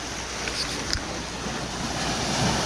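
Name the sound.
sea waves at the beach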